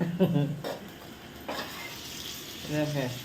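Water goes into a frying brinjal, potato and tomato curry, setting off a hissing sizzle and splashing in the pan, and someone talks at the start and end.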